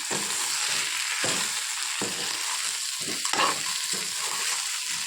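Taro root (chamadumpa) fries with chili powder in a pan, a steady sizzle broken by repeated scraping stirs of a spatula, close and clear with no voices.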